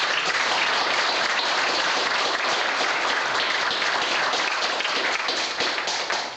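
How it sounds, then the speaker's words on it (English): A room full of people applauds loudly, a dense continuous wash of clapping that holds steady and then begins to fade. "So I think they deserve a round of applause for that."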